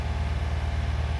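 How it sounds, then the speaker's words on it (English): Steady low rumble and hum inside the cab of a Honda Acty mini truck, a constant drone with faint engine pulsing and no voices. "Here's the cab noise"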